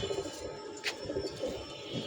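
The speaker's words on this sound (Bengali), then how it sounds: "এই যে আমাদের আরেকটি নর কবুতর চলে আসছে" Soft, low cooing from a racing pigeon returning to a loft during a 25 km open-side poultry tournament, a few brief murmuring notes over quiet outdoor background.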